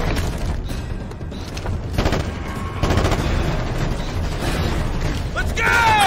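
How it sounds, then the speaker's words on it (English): Sustained automatic gunfire and booms from a firefight in the military shooter Ghost Recon Advanced Warfighter 2, loud and close, with shouted voices over the clatter. "I'm taking fire!"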